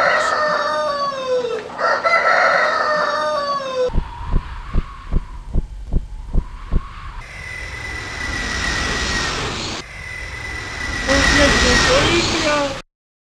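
Cartoon rooster from an Aesop's fable about two roosters, crowing loudly in repeated drawn-out calls with clucks, punctuated by a burst of rhythmic thumps and scuffling noise in the middle.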